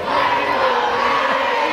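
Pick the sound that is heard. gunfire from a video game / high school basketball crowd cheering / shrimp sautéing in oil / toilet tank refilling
high school basketball crowd cheering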